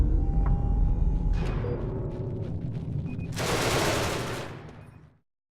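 A spaceship's turret fires in Genesis Alpha One, a dense rattling burst of rapid gunfire that builds, swells loudly near the end, then cuts off abruptly.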